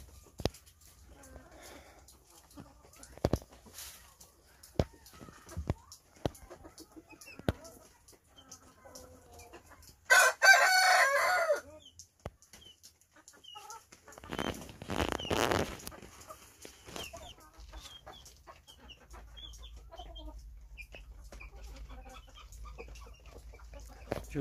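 Roosters and hens on a farm give scattered clucks and one brief crowing burst between soft rustling and handling noises, mostly faint with quiet gaps.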